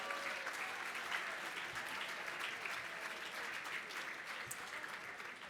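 Board members of a landmarks organization receive applause at a celebration event: a sustained, even wash of clapping from a sizable audience, heard faintly and steadily throughout.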